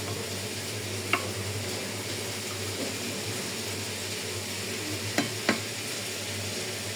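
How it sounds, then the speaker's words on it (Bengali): Eggplant slices fry in a pan with a steady, low sizzle running throughout, broken by a few faint clicks of a utensil against the pan. "বেগুন ভাজা করতেছি"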